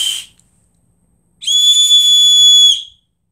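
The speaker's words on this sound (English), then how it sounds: "That's my whistle." A handheld survival whistle gives one sustained shrill blast of about a second and a half, loud and clean with a steady pitch, following a brief rustle and then silence.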